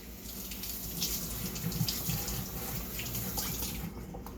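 Tap water runs steadily into a sink, splashing and gurgling as scallions are rinsed under the warm stream.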